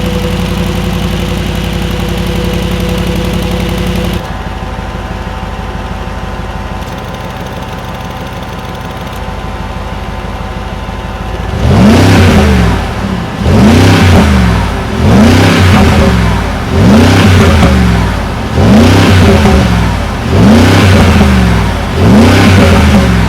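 The V8 of a 2025 Mercedes-AMG G63 facelift idles with a deep steady rumble, then revs again and again in a regular series of loud blips and falls, close by and without talk.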